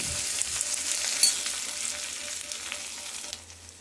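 Onions frying in hot oil in a pan for chicken pulao, a close, steady crackling sizzle with occasional stirring scrapes and no talk.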